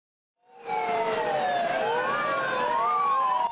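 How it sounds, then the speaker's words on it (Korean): A loud wailing fire engine siren rises and falls continuously, close by on a three-lane city road in Cheongju, with traffic rumble underneath and no voices. "소방차가 사이렌을 울리면서 나타나자"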